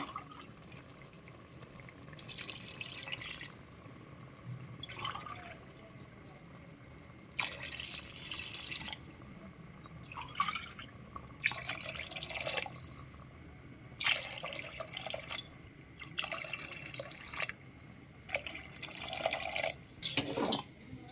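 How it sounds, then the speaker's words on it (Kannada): Water poured in several separate bursts into a pressure cooker of basmati rice, splashing and gurgling between quiet pauses, close and moderately loud, no voices. "3 ಗ್ಲಾಸ್ ಬಾಸುಮತಿ ಅಕ್ಕಿಗೆ ಇವಾಗ 6 ಗ್ಲಾಸ್ ನೀರು ಹಾಕ್ತಾಯಿದ್ದೀನಿ."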